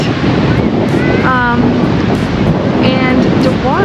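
Steady wind buffets the microphone while ocean surf rolls continuously on a white-sand Miami beach on a hot day, loud and unbroken, with faint background voices.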